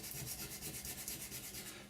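Quiet, rhythmic scratchy rubbing strokes of a sanding stick on a plastic B-24 scale model, several in quick succession, close by.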